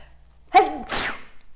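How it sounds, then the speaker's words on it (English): A single loud, close sneeze with a sharp inhaled buildup and a burst at the end, otherwise near silence. "Ooh, I gotta sneeze."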